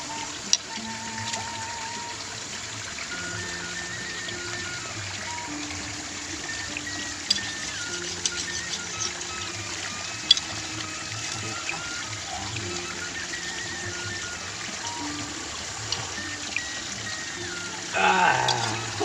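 Steady river water flowing near a waterfall on the way to Pangandaran, a continuous broadband rush running under occasional talk throughout.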